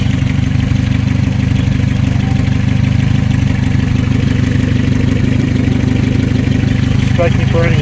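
A 1982 Datsun 720 engine idles steadily with its cooling fan running and fresh coolant in the system, a loud, continuous low drone throughout with faint clicks near the end.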